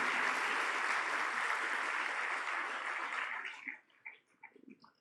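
Audience at a business school convocation ceremony in Kozhikode applauding the graduates, a dense, loud burst of clapping that thins to scattered claps and stops.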